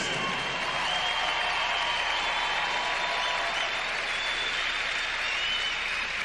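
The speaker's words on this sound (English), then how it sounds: "And Jamie Saleh applauding her Canadian teammate." Sustained applause from a large crowd at the 2002 Olympic ladies' short program figure skating, dense and steady clapping filling a big space, with faint whistles and cheers mixed in.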